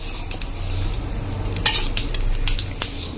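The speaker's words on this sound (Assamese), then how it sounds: "ইয়াকে ভালকৈ লৰাই লৈছোঁ" Cumin seeds fry in hot oil in a pan while a spoon stirs them, giving a steady close sizzle with light scraping and occasional metallic clinks, alone without talk.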